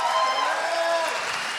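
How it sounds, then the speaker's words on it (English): Brief burst of steady audience applause at a Black Founders Exchange demo day, dense clapping filling the room with faint voices mixed in. "Big round of applause for Taryn for this."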